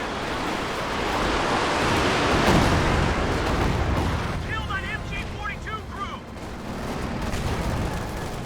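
A Panzerwerfer rocket barrage in Company of Heroes 2 produces a dense, roaring rumble of blasts. A cluster of shrill, whistling rocket shrieks sits midway through, over continuous battle noise.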